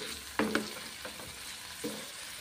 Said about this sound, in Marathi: आलू आणि मटार अगदी छान असा मसाले न घालता अगोदर परतून घ्यायचा